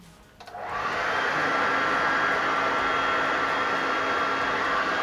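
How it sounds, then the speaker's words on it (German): A standard handheld hair dryer, not a heat gun, set to cold air, switches on after a quiet moment and ramps quickly into a loud, steady whooshing roar that holds unchanged, close up with no talk. "Ich werde den Föhn jetzt auch auf kalt einstellen, nicht auf warm."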